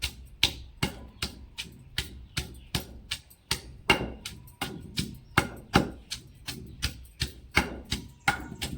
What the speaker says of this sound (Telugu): ఇప్పుడు పచ్చిమిరకాయలు తొక్కుందాం అండి